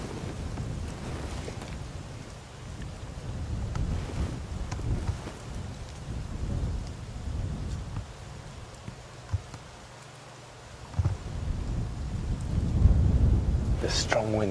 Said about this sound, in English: The strong winds just started.